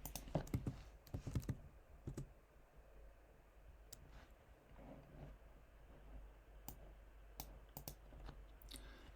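Typing on a computer keyboard, quiet clicks in a short quick burst at first, followed by sparse, scattered keystrokes over low background hiss.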